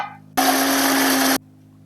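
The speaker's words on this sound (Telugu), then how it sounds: "వట్టి మిరపకాయలు ఉప్పు వేసుకొని తర్వాత జీలకర్ర వేసుకొని మిక్సీ పట్టుకోవాలి" Kitchen mixer grinder whirring on dried red chillies, salt and cumin, one loud steady burst of about a second that starts and stops abruptly over a low background hum.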